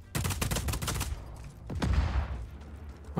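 Rapid bursts of gunfire in the video game Just Cause 4, with sharp, rattling shots in a quick volley followed by another cluster of loud reports, close and punchy, with no talk.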